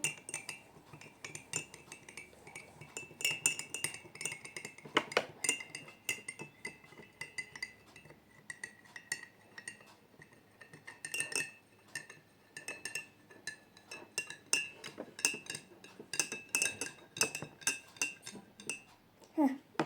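A spoon stirs salt into water in a glass, rapid irregular clinks and scrapes against the glass, close and continuous, with faint voices in the background.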